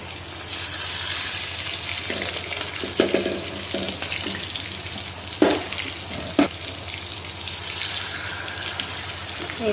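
Mackerel pieces frying in hot coconut oil give a steady, fairly loud crackling sizzle with a few sharp pops and spits standing out, and no voices.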